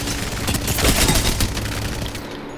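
Rapid automatic gunfire in the video game Apex Legends, a dense, loud, continuous burst of shots close up that cuts off at the end, with no talking.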